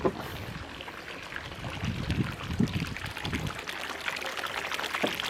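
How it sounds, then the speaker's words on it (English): Water pumped out of a sinking yacht pours from a hose over the side, a steady splashing gush into the sea that holds throughout at close range, with no talk. "Pump's in and running. Hose over the side."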